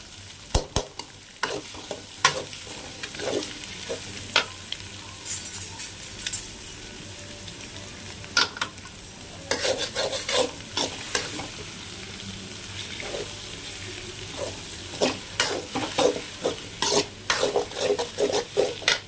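Egg and sliced onions frying and being stirred in a pan for chicken fried rice, a steady sizzle broken by repeated scraping stirs of a utensil against the pan, close and fairly loud with no talking.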